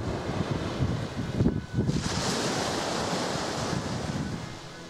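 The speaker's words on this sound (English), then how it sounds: "Can you listen to the sea?" Sea waves wash continuously onto the shore in a broad, hissing surge that swells briefly, mixed with gusty wind buffeting the microphone; no voices.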